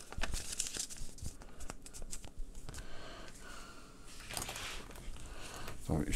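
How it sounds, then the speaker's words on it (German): String lights with G40 glass bulbs and E12 sockets are packed into a bag, making close, irregular plastic crinkling and rustling with soft knocks, while someone talks over it. "So, ich werde sie mal hier erstmal wieder in die Tüte packen."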